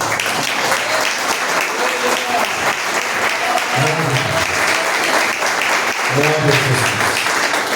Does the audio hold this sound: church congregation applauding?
yes